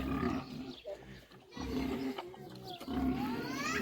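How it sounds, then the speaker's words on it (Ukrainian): Vietnamese pigs squeal and grunt in loud, harsh bursts, several overlapping cries rising and falling with short gaps between them. "Там дикі свині кричать"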